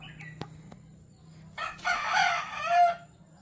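Gamefowl roosters crow and cluck nearby, a sharp click and soft clucks first, then a loud drawn-out crow rising and falling over a low background hum.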